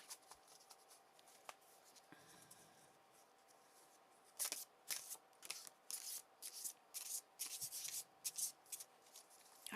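A tarot deck is given a quick shuffle, quiet at first and then a run of crisp, rapid riffling bursts in the second half, each a short papery rattle, close and faint with no talking.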